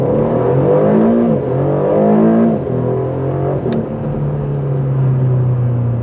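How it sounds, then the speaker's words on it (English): A 2024 Aston Martin DB12 accelerating hard, its engine roaring loud and close through rising gears with brief dips at the shifts and a long sustained pull. "That was the rowdiest acceleration I've ever experienced out of this thing."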